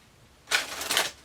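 Two quick bursts of oracle cards being shuffled, a crisp papery riffle, close and fairly soft, with a short pause before the first and no talking.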